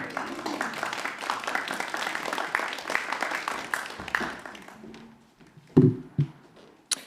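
A community Sunday Assembly celebration breaks into warm applause after a group singing session. The clapping is dense and sustained for several seconds, then thins out into a few scattered claps and thumps as the room settles.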